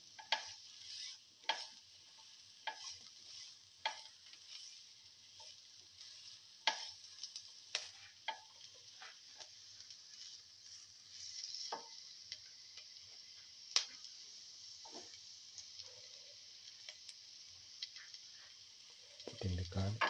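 Onions fry with salt in a pan, giving a faint steady sizzle punctuated by sharp utensil clicks and scrapes against the pan at irregular intervals.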